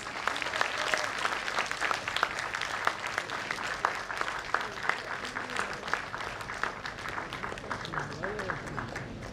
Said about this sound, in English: Kindly give her a huge round of applause.